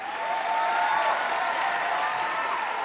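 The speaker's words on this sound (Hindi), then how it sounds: "सबसे पहले जोरदार तालियों से स्वागत कीजिए हमारे हैंडसम हंग जज" A TV reality talent show studio audience applauds to welcome the judge, a loud, dense, even wash of clapping sustained throughout with crowd noise mixed in.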